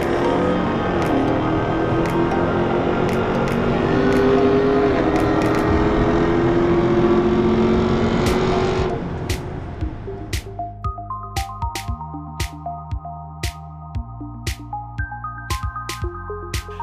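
A deep, rumbling cammed V8 car engine revs hard, then settles into a loud, choppy, lopey idle with an uneven rhythmic lope.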